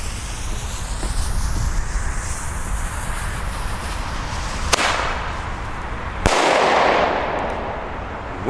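Small Lidl bomb-tube firecrackers go off outdoors, two sharp hard bangs a couple of seconds apart over steady loud background noise, the second followed by a hissing wash of sound.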